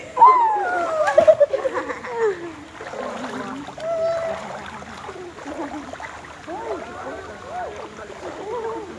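People swimming splash and slosh in water, with irregular bursts of splashing near the start and lighter movement afterward, while voices call out and chatter over it.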